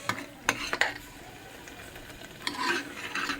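A spoon stirs spices in a pan for mutton gravy over a low flame. A few sharp scraping taps come close by, then a longer, rougher scrape near the end, at moderate loudness.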